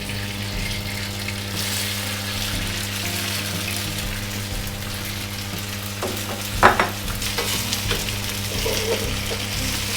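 A wok on high heat with oil gives a constant hiss while hor fun rice noodles go in and are stirred, with a sharp clatter and splash partway through and a few scraping strokes after it.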